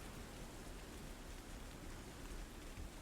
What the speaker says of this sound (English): it's still raining outside